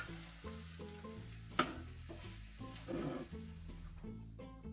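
Scrambled eggs sizzle and fry in a pan, a steady soft crackle with some stirring and a brief clatter near the middle, with no talking.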